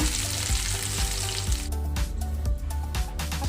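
Potatoes, onion and peanuts fry in a pan with a loud, steady sizzle, and from the midpoint a run of scraping stirs breaks through.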